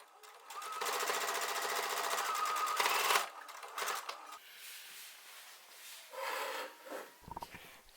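Sewing machine stitching 1 cm seam allowances on a bustier dress, a steady close whirring run for about two seconds, then stopping, followed by quieter handling noises and brief rustles.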